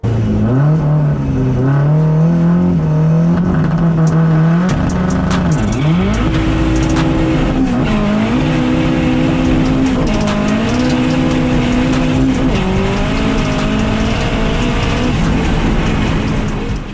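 A front-wheel-drive Mk1 Volkswagen Golf drag car with a 16-valve turbo engine roars continuously at high revs, the pitch climbing through gear changes, loud and close with no talking.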